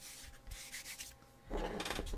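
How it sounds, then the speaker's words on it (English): Someone hand-sands the handle of a Sisters of Battle cosplay piece with a few short rubbing strokes. Each stroke grows louder, and a firmer, longer scrape comes at the end. The sound is close and quiet, with no talking. "I will have to do some sanding to get that a little bit more flush."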